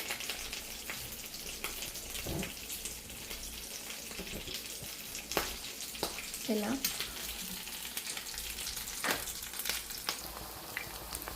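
Nuggets made of jowar, oats and potato sizzle in a pan over a flame that is turned up, a steady moderate frying hiss broken by occasional soft clinks and faint movements nearby.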